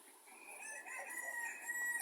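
Mini meat-breed chickens cluck softly at a distance while a rooster's drawn-out crow rises over them, faint and continuous.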